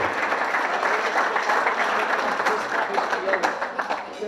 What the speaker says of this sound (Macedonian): Аплауз за општина Струмица